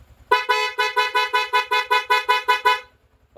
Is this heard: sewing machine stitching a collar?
no